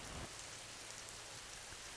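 Heavy rain falls steadily in an animated story, a dense, even hiss that runs through without a break.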